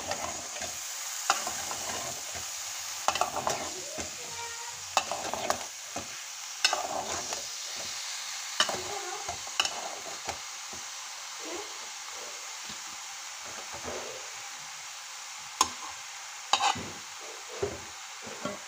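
Eggplant fries in a pan under a constant hissing sizzle while a spatula repeatedly knocks and scrapes through it in irregular bursts, close and fairly loud, with no talking.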